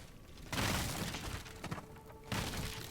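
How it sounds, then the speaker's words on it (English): A petrification grenade explodes in the video game Steelrising as two loud bursts of dense, crackling noise with a rough, shattering texture, the second arriving about two seconds after the first. "Petrification grenade"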